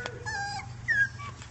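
Six-week-old puppies letting out thin, rising whimpers and a couple of short whines, close by over a low background hum, with no talk.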